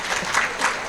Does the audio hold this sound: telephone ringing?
no